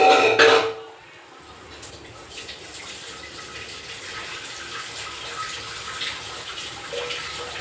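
A tap runs while hands are washed, opening with a brief loud splash of water, then settling into a softer steady trickle and hiss.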